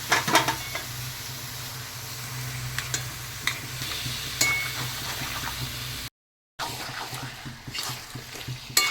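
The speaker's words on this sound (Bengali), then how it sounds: "আর এরপরে দিয়ে দিচ্ছি মাটনটা" Mutton hitting a hot pan and being stirred with chilli paste, dried red chilli, green chillies and spices, giving a loud, close sizzle with scraping stirs. The sizzle cuts out briefly, then resumes with more stirring.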